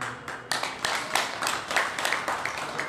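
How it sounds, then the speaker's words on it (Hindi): An audience at a community gathering in Haridwar claps in a scattered, uneven stream of sharp hand claps for under three seconds, close and fairly loud, with no talking. "तालियां बताइए"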